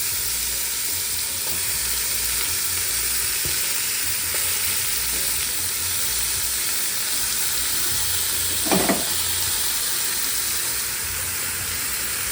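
Jamaican oxtail browns in a pot with a steady, loud frying sizzle and hiss throughout, with one brief scrape of a stir near the end and no voices.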